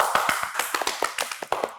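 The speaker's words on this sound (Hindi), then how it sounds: "पाकिस्तानी का नाम आया तो मैं तो तालियां बजाऊंगा" Rapid hand clapping from one person on a television current-affairs talk show set, a quick run of sharp, fairly close claps without any speech.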